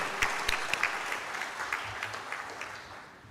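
Audience applause at a corporate event in Mangalore marking a crude oil receipt at MRPL, steady clapping from a crowd in a hall, moderately loud and slowly fading toward the end.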